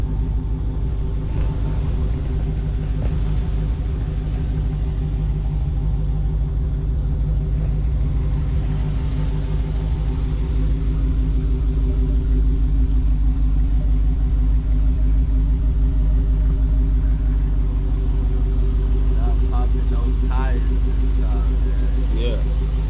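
Deep, steady engine rumble from a Redeye Hellcat being slid around, a constant low drone close to the microphone throughout, with voices talking faintly over it.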